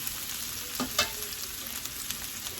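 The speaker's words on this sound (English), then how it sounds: "so that it can be mixing with the other oil as I fry the potatoes" Potatoes frying in oil in a pan, a quiet, even sizzle with a couple of soft clinks near the start, fairly faint and without talk.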